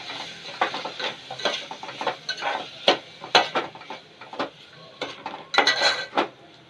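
A spoon scrapes and knocks against a pan as ridge gourd and snake gourd pieces are mixed, making a busy run of close metallic clinks and scrapes with a faint sizzle underneath.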